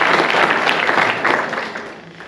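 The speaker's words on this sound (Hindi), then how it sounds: "तो एक बार जोरदार तालियां" Audience applause at a school award ceremony honouring top students, a crowd clapping loudly at first, then gradually fading toward the end.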